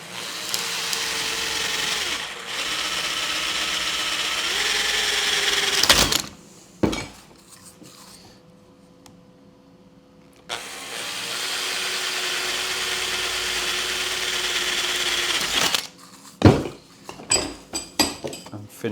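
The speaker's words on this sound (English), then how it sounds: "And just drill out the middle." A drill bores out the hollow middle of a bamboo section, a loud steady whirring drone that runs for several seconds, pauses, then starts again, followed by brief knocks and clatter.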